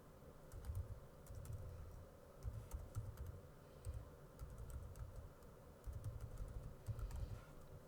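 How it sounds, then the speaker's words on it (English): Keys clatter on a computer keyboard as a domain name is entered into a search box, coming in short quiet bursts of clicks with brief pauses between them and no talking. "you want to click into their search function and you want to just type the domain that you want"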